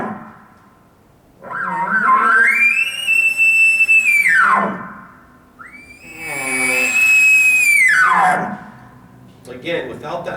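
A man imitates a bull elk bugle by voice, exaggerating the high note: two long rising-and-falling whistled calls about four seconds each, loud and close, with a brief grunt between them and a short breath at the end.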